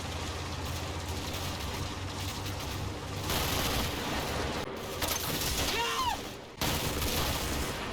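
Gunfire in the wartime tactics game Combat Mission, sustained bursts and rattling fusillades over a rumbling battle bed, growing louder midway with brief drops.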